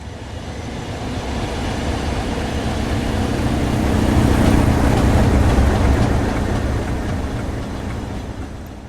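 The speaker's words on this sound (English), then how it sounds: "37428's unhealthy sound and low power wasn't going unnoticed" A Class 37 diesel locomotive, number 37428, hauls a train while running unhealthily with low power, its rough engine roar swelling to a peak near the middle and easing off, steady and close throughout.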